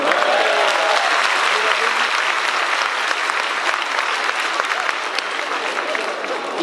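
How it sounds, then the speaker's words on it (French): A large audience at a church revival convention applauds warmly and continuously, a dense even clapping that stays loud throughout, with voices faintly mixed in. "On peut l'applaudir."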